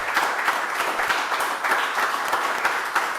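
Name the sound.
audience applause for awardees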